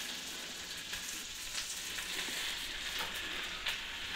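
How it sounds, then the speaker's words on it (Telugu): Onion and carrot fry in a pan, giving a soft, even sizzle with a few faint stirring scrapes, quiet and continuous with no speech. "ఆనియన్, క్యారెట్ వేసి వేయించాలి."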